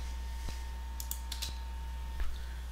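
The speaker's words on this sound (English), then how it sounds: "click spacebar" Close, soft computer keyboard clicks, including a spacebar press, land sparsely over a steady electrical hum, with a few faint taps spread across the moment.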